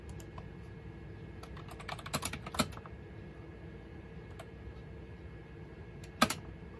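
Typing on a computer keyboard connected to a Windows NT 4.0 Terminal Server over dial-up: a few sparse, uneven keystrokes clustered in short bursts, with louder clacks near the middle and the end.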